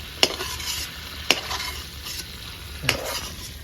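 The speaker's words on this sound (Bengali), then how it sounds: "মাছটা হালকা করে ভেজে নেবো" Fish fries lightly in a pan, giving a steady soft sizzle with a few sharp clicks of stirring or turning spaced through it, close and moderately quiet, with no talking.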